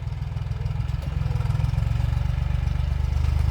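A tractor engine used for hazelnut farm work runs steadily, a loud low diesel throb with a regular chugging pulse that holds close and constant, with no talking.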